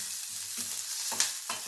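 Onions fry in a pan for chicken green masala, a steady sizzle beneath a few brief stirring scrapes, close and moderately loud with no voices.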